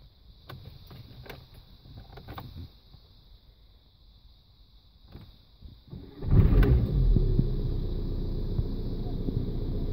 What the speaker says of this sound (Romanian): Deci n-a pornit când i-am dat la automat, a pornit după o fracțiune de secundă.